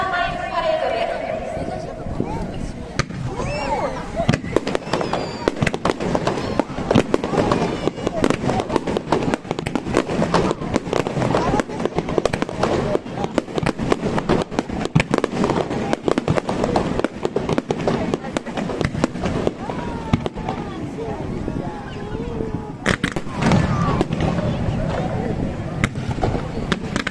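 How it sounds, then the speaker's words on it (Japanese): Festival fireworks at the Ito Anjin Festival fireworks show, a dense continuous barrage of bursts and crackling explosions throughout, loud and sustained with crowd sound underneath. "感謝の気持ちを込めて花火を送ります"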